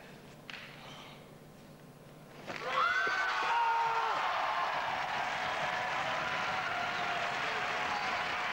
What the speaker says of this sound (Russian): Зрители аплодируют.